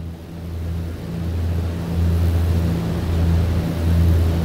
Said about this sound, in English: That's how loud this airplane sounds